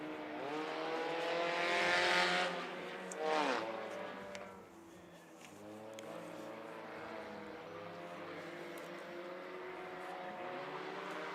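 Race cars lap a motor speedway in a regular race program: engine roars swell loudly as cars pass close, then fade and return as a steadier distant drone, with faint announcer-like crowd ambience underneath.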